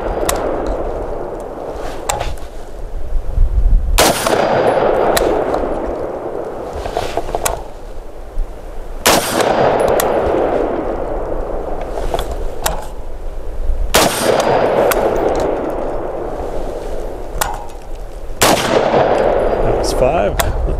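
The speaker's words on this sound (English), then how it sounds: "She's gonna do 5 iterations of ready up and taking a shot, showing her target acquisition and ability to hit." Five loud, sharp gunshots fired at a target with an Armson OEG red dot sight, spaced about five seconds apart over steady outdoor background noise, each crack followed by a brief decay.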